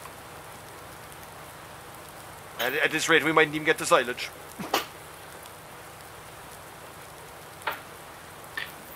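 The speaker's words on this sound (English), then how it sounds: "Pissing rain." Steady heavy rain patters in the background on an Irish farm while a person speaks briefly; a few isolated knocks follow.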